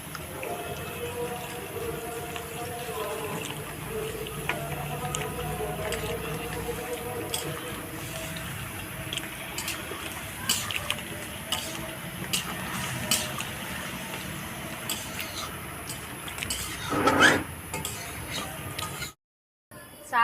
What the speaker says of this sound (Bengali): এবার আমি জল দেবো, চিকেনগুলো সিদ্ধ হওয়ার জন্য জল দেবো।